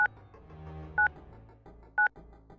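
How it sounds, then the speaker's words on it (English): Phone dialing tones in a video game, three crisp beeps arriving at one-second intervals, loud and clean above faint background game sounds, no voices. "Sounds like someone dialing a phone."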